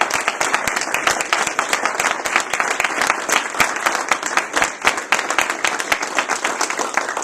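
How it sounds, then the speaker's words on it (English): A political endorsement crowd gives another round of applause, with dense, close clapping and distinct individual claps standing out, holding steady for around seven seconds. "I want to give him one other round of applause."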